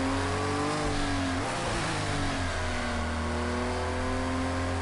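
A race car engine in Project Cars 2 drones steadily and loud, its pitch climbing and shifting through revs with no talk over it.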